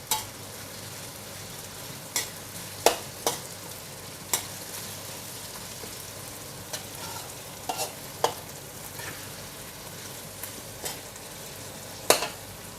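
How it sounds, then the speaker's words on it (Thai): Pieces of chicken thigh are stir-fried for spicy Thai basil chicken with glass noodles: a continuous sizzle is broken by a dozen or so crisp spatula scrapes and taps on the pan, spaced irregularly, close up and without speech. "แล้วก็ผัดไก่ให้สุกๆค่ะ"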